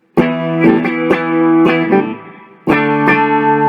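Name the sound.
electric guitar power chords without distortion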